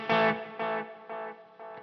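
Four delay repeats from a Line 6 Helix in series routing, each echo decaying in turn with reverb smearing and washing over the repeats, close and fairly quiet.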